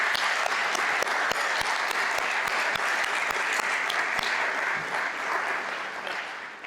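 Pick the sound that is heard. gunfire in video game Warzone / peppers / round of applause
round of applause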